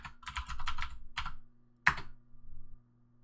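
Keystrokes on a computer keyboard as a command is typed to set up an Ionic app, several quick bursts of clicking, a pause, one sharp tap, then a final run of typing, close and fairly quiet.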